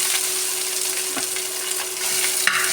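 Beef chutney being stirred in a hot pan gives a brief, steady sizzle with soft scraping strokes and a faint tonal hum underneath, no voices.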